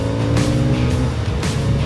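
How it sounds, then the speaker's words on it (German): A 2024 Kawasaki Z900RS motorcycle roars close by, accelerating hard with a steady, throaty drone that barely lets up. "Genial, wie das Motorrad beschleunigt. Und dann dieser Sound."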